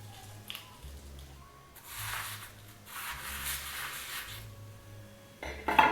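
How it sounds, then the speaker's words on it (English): Perlite for a water-propagated plant is wetted and drained, with soft wet squishing and rustling that rises in patches, a few light knocks, and a sharper clatter of a container at the end. "I'm just gonna wet the perlite before I put the plant in. I'm just gonna drain it too, so it's not sopping wet."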